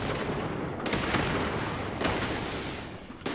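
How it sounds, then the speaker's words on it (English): Automated turrets in Fallout 76 open fire on a house, a loud sustained burst of rapid gunfire with sharp crackling volleys starting and stopping. "Their turrets are attacking their own house."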